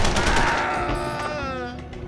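Gunfire in the Punisher video game: a dense burst of shots at the start that fades into ringing decay, loud and close.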